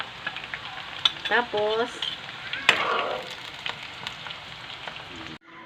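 Food sautéing in plenty of hot cooking oil crackles and sizzles steadily for several seconds, with scraping stirs and a brief spoken word partway through.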